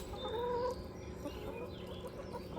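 Chickens in a rain-soaked backyard pen cluck and murmur softly, a few short calls rising over a damp, quiet outdoor background.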